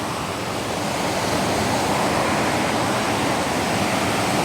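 Rushing water at Kanthanpara waterfall in Wayanad, a loud, continuous broadband roar of falling and churning water close by, with no breaks or voices.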